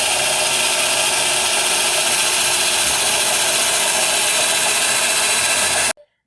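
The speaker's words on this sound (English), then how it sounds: "Now he's finished drilling those 3 holes" A power drill bores holes in wood while a TV stand is being built, a loud continuous whirring grind that runs steadily for several seconds and then stops abruptly.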